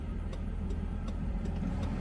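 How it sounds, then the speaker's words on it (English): Cars going by on a road, a steady low engine rumble with faint repeated whooshes as vehicles pass close by, and no talking. "Just waiting for these cars to go by."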